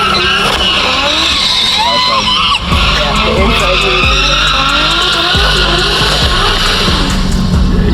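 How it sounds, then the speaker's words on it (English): A 1100 hp RB26-powered Nissan 240SX spins a donut with tires skidding and squealing continuously up close, engine roaring underneath, while excited people talk and shout over it. "The donut. He did a donut."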